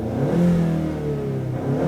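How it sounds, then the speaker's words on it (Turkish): Ford Mustang 2.3 EcoBoost four-cylinder engine idling and gently revving, a steady mid-pitched hum that rises slightly and settles, heard up close with no talk. "Yola çıkmadan önce hafif bir sesini duymak ister misiniz motorun?"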